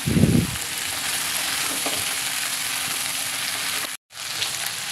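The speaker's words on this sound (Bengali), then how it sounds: "এবার দিয়ে দেবো আগে থেকে বেছে রাখা কচুরলতি দিয়ে আবার কিছুক্ষণ ভাজতে থাকবো" Chopped taro stolons sizzle steadily in a hot oiled pan with seafood, a continuous close frying hiss with a brief stir near the start and a short cutoff near the end.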